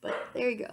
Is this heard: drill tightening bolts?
no